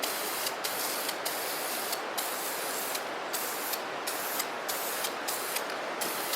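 Aerosol spray paint hisses steadily and close onto a stove, a continuous loud spray broken by several very brief pauses as the nozzle is released and pressed again.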